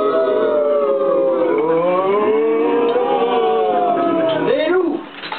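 Several voices imitate ghosts in a storytelling session at an estaminet in Cassel, with long wavering howls and wails that rise and fall together, loud and sustained before fading out.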